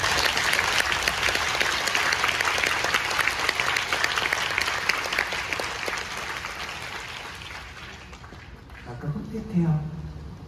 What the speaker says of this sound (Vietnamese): Một lần nữa thì xin một tràng pháo tay cho tất cả những người thực hiện chương trình.